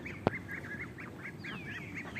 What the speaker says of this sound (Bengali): এই পুকুরে নামবে, হাঁসগুলো নামে,